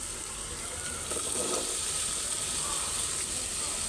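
Vegetable stalks and potato go into hot oil with shrimp, and a steady, close sizzling hiss fills the whole stretch with no talking.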